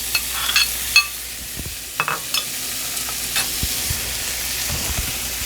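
Pork chops sizzle in hot olive oil in a pan on the stove, with a steady frying hiss and a few sharp clinks and scrapes of utensils against the pan.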